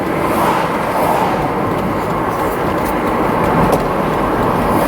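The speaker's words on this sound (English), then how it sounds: "I enjoy the lull of the diesel motor too." A Mercedes-Benz W126 300SD turbo diesel engine runs as a steady, loud, even drone heard from inside the car while driving. There is no talk.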